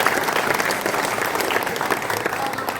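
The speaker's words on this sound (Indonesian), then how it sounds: "Terima kasih, tepuk tangan semuanya." An indoor audience at a community organization's thanksgiving gathering claps together in dense, continuous applause, loud and sustained, with a faint crowd murmur beneath.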